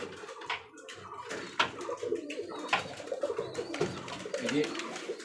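Pigeons in a loft of highflyer Giribaj birds, nesting with eggs and chicks, coo in soft overlapping throaty calls, close and fairly quiet, amid faint rustling and background voices.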